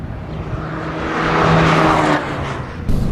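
A 2013 Fiat 500 Abarth Cabrio, a 160-horsepower small hatch, takes a turn on a race track; the engine note swells loudly, tires squeal briefly mid-corner, and the sound eases off as the car exits.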